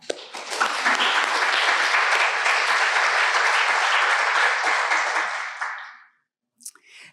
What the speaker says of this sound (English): Can I just give you a clap?